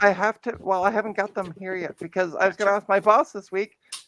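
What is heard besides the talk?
No everyday noise stands out behind the speech.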